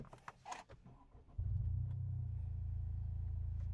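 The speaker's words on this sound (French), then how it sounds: "Je vais démarrer le véhicule." A few clicks and rustles, then a 2020 Ford Focus Vignale engine starts by push button with a quick crank and settles into a steady, low idle rumble nearby.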